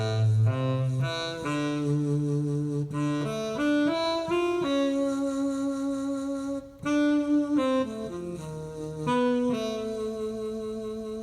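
A keyboard plays the right-hand melody of a tune, a clear solo line of sustained, sliding notes in a steady phrase, close and fairly loud with no voices.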